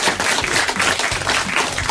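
A television studio audience gives a short round of applause, dense and close. The steady clapping runs throughout, with faint voices underneath.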